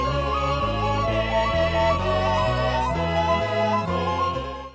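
An excerpt from Philip Glass's opera Einstein on the Beach: dense, loud, continuously repeating keyboard-like figures over a bass line that steps down in regular blocks, with no voices.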